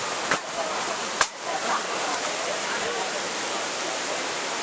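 Palakondalu waterfall in Kadapa roars in a steady, dense wash of falling water, close and loud, with a couple of sharp knocks near the start.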